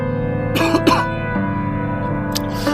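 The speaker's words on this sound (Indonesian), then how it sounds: "Sorry batuk karena sambil kerokok sobat." A person coughs a few times in short bursts, close up, over a steady humming background.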